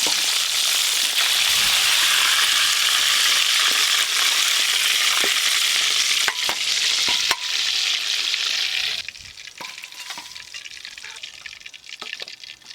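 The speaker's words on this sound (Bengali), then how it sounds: "দেখছেন তো বন্ধুরা কত সুন্দর ভাজা হচ্ছে" KFC-style chicken pieces frying in hot oil, a loud, continuous close sizzle with occasional sharp clicks and pops, settling to a quieter, crackling fry toward the end.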